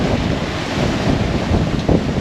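Strong wind gusting to 30 knots aboard a sailboat buffets the microphone in a continuous roar, mixed with the rush of waves at sea, loud and unbroken.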